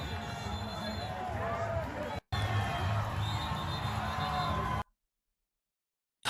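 Hundreds of far-left counter-protesters at a street protest cheer and shout together, a dense, distant roar of massed voices with whistles and yelling, broken by a brief gap before the sound cuts to silence.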